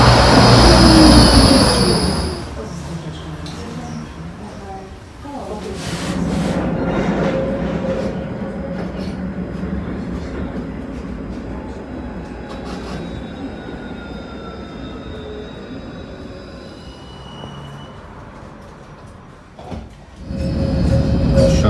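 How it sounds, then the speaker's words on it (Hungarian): A tram rolls along in Košice, Slovakia, passing through a roundabout, with a steady low rumble, wheels squealing faintly and rails clattering, noise swelling and easing as it moves. "ilyen körforgalomban halad át a villamos"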